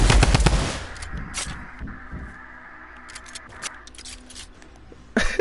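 Video game gunfire: a burst of rapid machine-gun shots up front, followed by quieter scattered shots and a low hum, then another sharp loud burst at the very end.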